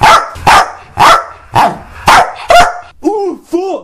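A pack of dogs in a game barks in a rapid run of sharp, loud barks, about one every half second, ending in a few whining yelps as they maul a character.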